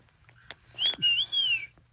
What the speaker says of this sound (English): You hear Rocky whistling at me?